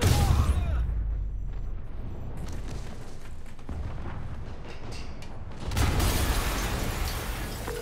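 An explosion in Marvel's Spider-Man on PS4 rolls out as a deep, rumbling boom, followed by lingering debris noise and a second heavy surge of blast rumble toward the end, loud and close.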